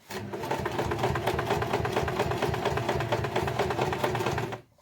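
A domestic sewing machine stitches through heavy layered fabric, sewing a strap onto a messenger bag, its needle hammering in a fast steady rhythm for several seconds before stopping abruptly.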